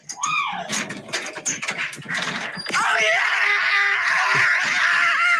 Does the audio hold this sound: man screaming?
yes